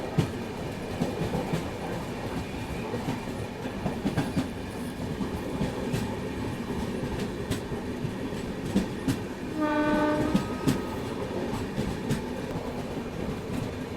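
Moving train overtaking an empty rake standing on the main line, with continuous rolling rumble and rail noise throughout and a brief tonal horn-like sound near the middle; no talking.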